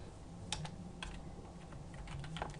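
Keystrokes on a computer keyboard while entering PowerShell commands to create a Hyper-V virtual machine, a handful of separate taps spread over a few seconds with steady background hum and no talk.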